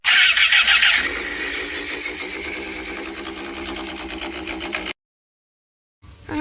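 A motorcycle engine cranks and catches loudly, then settles into a steady close idle for several seconds before cutting out abruptly, with a brief burst of noise returning at the end.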